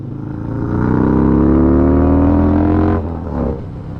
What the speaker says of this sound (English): that is so much more free revving than it was before